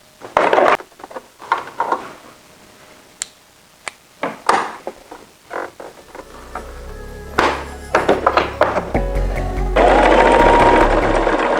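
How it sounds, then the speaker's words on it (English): Sewing machine stitching T-shirt pieces: scattered clunks and taps of handling the fabric and machine, then bursts of rapid stitching building into a sustained loud run near the end, close by. "Let's get sewing."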